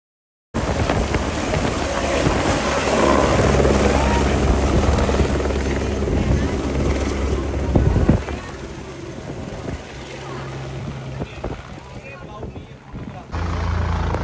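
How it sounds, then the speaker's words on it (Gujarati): A helicopter's loud, steady rotor drone fills the air nearby at Kedarnath, with people talking over it and the engine noise easing slightly toward the end. "હેલિકોપ્ટર પણ ચાલુ હતા"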